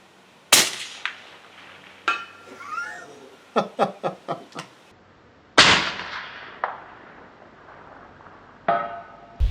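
Subsonic rifle ammunition fired at a steel target outdoors: several sharp reports and quick metallic pings, including a rapid run of five close impacts, with further loud cracks spaced apart and brief tails between them.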